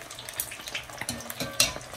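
Panfish crisping in hot frying oil, a close crackling sizzle with irregular pops and a few faint utensil knocks, no talking.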